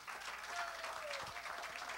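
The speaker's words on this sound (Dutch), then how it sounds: "Nogmaals vanuit de zaal, een warm applaus voor alle deelnemers" Faint, distant audience applause in a hall for swim marathon participants, a soft continuous wash of clapping throughout two seconds.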